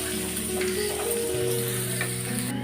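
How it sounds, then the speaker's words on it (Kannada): Finely chopped onions fry for paneer butter masala, giving a steady, close, continuous sizzle in hot oil with no talking. "ಸಣ್ಣದಾಗಿ ಹಚ್ಕೊಂಡ್ರಂಥ ಈರುಳ್ಳಿ ಸ್ವಲ್ಪ ಫ್ರೈ ಮಾಡ್ಕೊಳ್ಳಿ"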